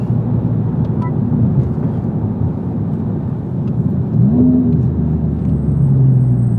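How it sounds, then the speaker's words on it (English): Aftermarket exhaust on a Honda Civic Type R FL5 in R mode, a loud, steady, deep drone with a brief swell of revs partway through, continuous and close with no talking. "you can hear the exhaust waking up"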